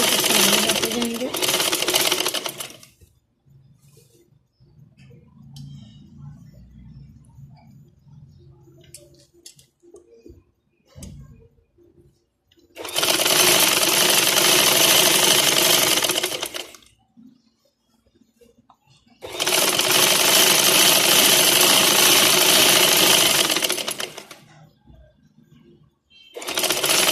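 A sewing machine stitches lace over an existing seam on a garment's neck, hem and side slit, running in three loud, close bursts of several seconds each, with quiet handling and murmured talk in the pauses.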